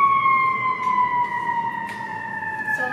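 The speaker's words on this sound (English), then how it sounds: "Yes, there's an ambulance coming through." An ambulance siren wails in a high, sustained tone that slowly falls in pitch as the vehicle passes, prominent and fairly close, with no talking over it.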